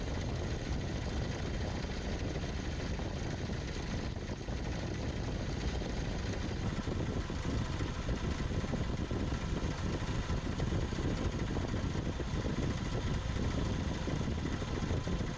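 A 2000 Nissan Frontier four-cylinder engine idles with a wobbling crank pulley, giving a steady, close, fairly loud mechanical drone that stays even throughout, with no one talking.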